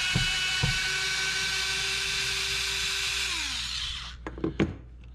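A power drill whirs steadily while drilling out fasteners on an electrical outlet during an installation, running continuously before winding down, followed by a few brief clicks and knocks.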